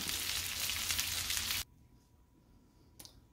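Chicken pieces for fried chicken parmesan sliders frying in a pan, a loud dense sizzle that cuts off abruptly partway through, leaving a quiet background with a brief faint crackle near the end.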